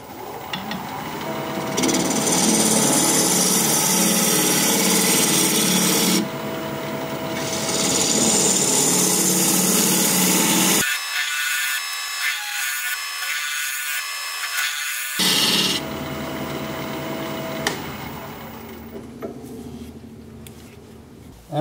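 A wood lathe turning a bowl blank at about 1100 RPM gives a steady, close rasping hum with grinding scrapes, briefly dropping to a thinner whine midway before the rough cutting tone resumes.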